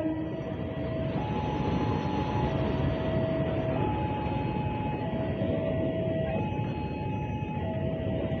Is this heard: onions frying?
no